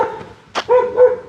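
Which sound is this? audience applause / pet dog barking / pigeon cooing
pet dog barking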